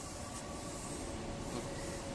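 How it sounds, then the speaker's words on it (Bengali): A train rolls past a closed railway gate with a continuous loud rumble and hiss of wheels on rails, steady throughout with no talking. "তো এই যে রেল গেট বন্ধ, ট্রেন যাচ্ছে।"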